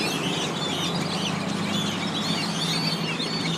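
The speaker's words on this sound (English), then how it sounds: "there are some white birds right there" Several white birds calling from the trees, a busy overlapping chorus of harsh, squawking calls over steady background noise, close and continuous throughout.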